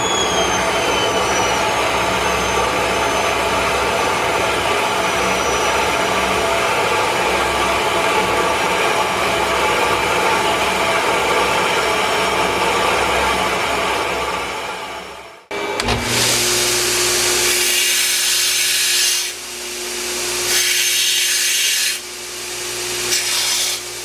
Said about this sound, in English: So we're going to get this other steel here cut.